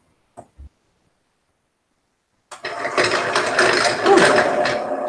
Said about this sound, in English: It has a separate bobbin winding motor that I really like.